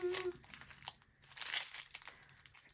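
Plastic bags of ArtDot square diamond-painting drills being cut open, heard as close crinkling and rustling in short bursts, with a brief snip-like crunch.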